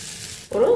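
Cumin seeds hit hot oil in a pan already holding grated ginger and slit green chili, setting off a sudden brief burst of loud sizzling after a quiet moment.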